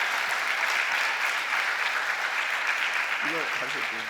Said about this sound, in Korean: 우리 목사님 나오실 때 큰 우리 박수로 환영해 주세요.